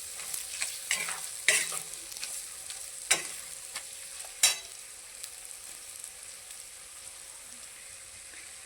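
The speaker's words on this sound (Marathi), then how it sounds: "हळद आणि नमक मिक्स करून घेऊया." Turmeric and salt stirred into a spice mix in a pan for a traditional Marathi khar vang eggplant dish, with a soft sizzle and several scraping knocks of a spoon against the pan, quieter toward the end.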